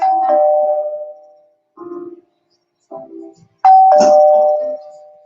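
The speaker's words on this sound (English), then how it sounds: "Doorbell rings several times, awakening Joyce." A doorbell rings several times, clear and close, with distinct ding-dong chimes separated by short silences inside a quiet home.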